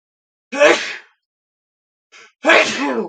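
A single loud sneeze up close, followed after a pause by a short intake and a second sneeze-like burst.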